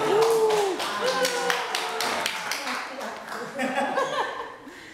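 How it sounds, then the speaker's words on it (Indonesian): Audience clapping at a research-sharing gathering, a steady patter of hands with some laughter and voices speaking over it throughout. "Saya minta tepuk tangannya dulu."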